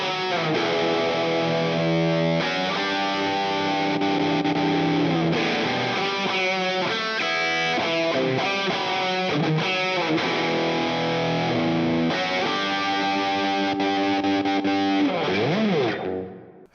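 Distorted electric guitar riff from a guitar with TB4 pickups, through a compact hot rod and JCM800 amp setup, loud and continuous with sustained notes and rapid passages, ending in a brief fade.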